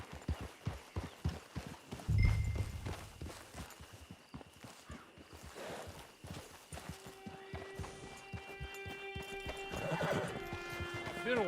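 In the video game Red Dead Redemption 2, a horse's hooves clop steadily while it whinnies and snorts nearby, with voices speaking and soft music rising toward the end.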